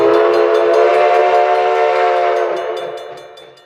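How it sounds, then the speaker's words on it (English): Huckleberry Railroad narrow gauge steam Christmas train sounding a long, loud, steady whistle with stacked harmonic tones, held for about two and a half seconds before fading away. "we will be watching the Huckleberry Railroad's Christmas train as it goes along their main line"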